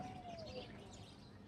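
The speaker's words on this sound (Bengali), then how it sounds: "এই দেখুন পাখির শব্দ, দিয়েছেন?" Birds chirp faintly in the distance near a building in a rural Bangladeshi setting, one thin whistled call sliding downward over a soft outdoor background.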